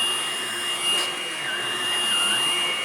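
A Hoover Blade Plus vacuum cleaner runs steadily and close, a constant broadband motor roar with a high whine, with no voices.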